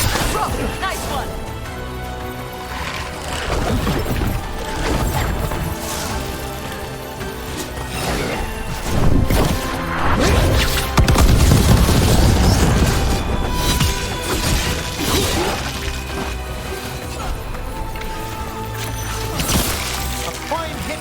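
Combat in the video game Dragon Age: The Veilguard, with loud repeated crashes, booms and impacts over a dense music and effects bed, while voices shout throughout.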